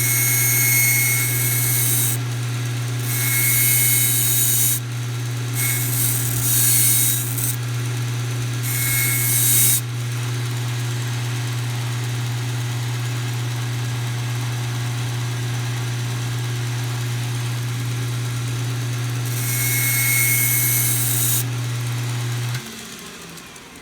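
A kitchen knife is ground on a Kally Rest sharpening setup under a loud, constant motor hum, with several bright rasping passes of blade on abrasive coming in short bursts before the grinder cuts off near the end.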